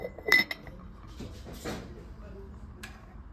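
Ceramic dishes and saucers clink softly while being handled on thrift store shelves, a few light taps and a sharper clink early on, faint and close in a quiet room.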